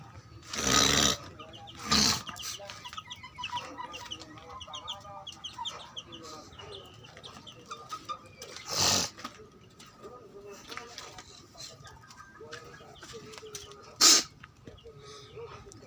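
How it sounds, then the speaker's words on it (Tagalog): Chickens clucking and a rooster calling in an outdoor yard, with a few loud bursts standing out over steady background bird chatter. "Mga manok ko."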